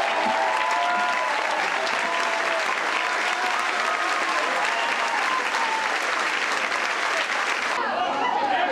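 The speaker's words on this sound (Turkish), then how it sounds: "Hep birlikte alkışlıyoruz onlara" Wedding guests applaud the couple Çağla Şikel and Emre Altuğ with steady, dense clapping from a large crowd, loud and continuous throughout, with faint voices and a brief tonal sound mixed in.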